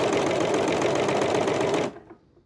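Serger overlocker stitching a gathered edge, a fast steady mechanical whir running close and loud, then cutting off near the end.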